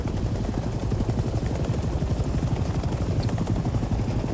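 A helicopter in the Vietnam-era video game Hell Let Loose Vietnam thumps with steady, close rotor beats under a constant engine whine throughout.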